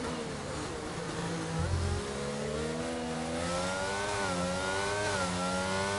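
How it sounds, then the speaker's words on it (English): An F1 race car in a video game at the Miami circuit revs up as its wheels spin, the engine pitch climbing and wavering in a loud, continuous whine. "You can hear the revs building and wavering as the wheel spin kicks up"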